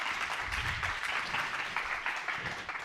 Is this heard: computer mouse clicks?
no